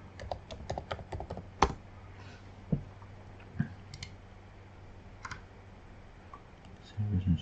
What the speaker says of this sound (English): we'll just type in Kellogg's